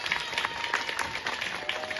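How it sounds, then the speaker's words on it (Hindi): An audience at an indoor awareness event claps steadily throughout, a dense, continuous round of applause from a large crowd. "तो एक बार जोरदार ताली अपने आप अपने लिए बजा लीजिए।"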